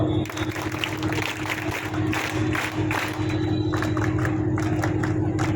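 Applause from a gathered audience at a public event honouring administrative officers, a dense steady patter of clapping with a crowd murmur throughout.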